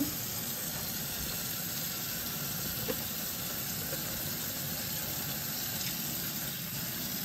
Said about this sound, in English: And I just wash the bread pan.